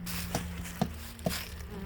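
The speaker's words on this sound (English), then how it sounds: "look at all these bees out on the front door. They ain't happy." Agitated honey bees swarm and buzz at the front entrance of a hive, a faint, steady drone with a few soft taps from insects striking nearby surfaces.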